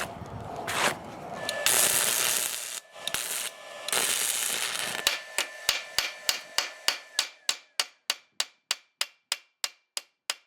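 A cheap stick welder crackles and buzzes in uneven bursts at first, then gives way to a long, regular series of sharp taps, likely slag being chipped, slowing and fading toward the end.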